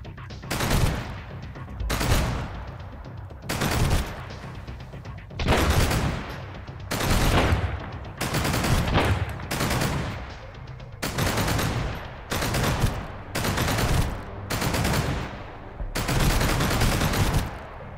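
Automatic gunfire in the survival game Sunkenland, with repeated loud bursts of rapid shots separated by short pauses over about eighteen seconds.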